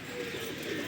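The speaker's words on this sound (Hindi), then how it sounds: "जुबैर भाई के कबूतर आ रहे हैं।" Pigeons cooing as a flock arrives during a rooftop pigeon-flying contest, a soft steady murmur blended with outdoor background noise.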